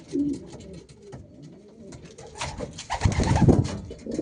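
Domestic pigeons in a loft give low, rolling coos close by, building into a denser, louder cooing chorus toward the end.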